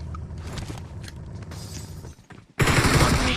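DBS shotgun blasts and other gunfire in a battle royale game, a cluster of sharp, fairly loud reports, then a short gap before a sudden burst of heavy, dense firing near the end.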